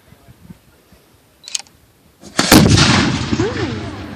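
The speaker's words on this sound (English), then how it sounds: "The linstock with the slow match burning at the end is going to be touched to that pile of powder, and it's hopefully going to go off." A black powder cannon fires after a short quiet wait: one loud, close blast with a long rumbling decay, followed by voices.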